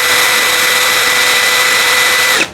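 A DongCheng DCJZ2090i cordless impact drill spins freely at speed 2, a loud, steady high motor whine held close for a couple of seconds before cutting off sharply at the end.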